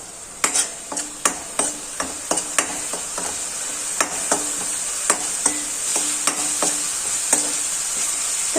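Onions sauté in a pan, a soft sizzle under a series of sharp, repeated scrapes and taps from a spoon stirring against the pan.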